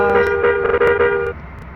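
A single sustained bus horn honk in a bus simulator video game lasts just over a second, loud and tonal, then cuts off to quiet background.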